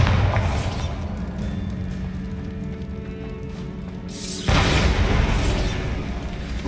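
A Bombarda blasting spell in Hogwarts Legacy sets off a sudden, loud booming blast that rumbles on for a couple of seconds after a stretch of quieter game ambience, with no talk over it.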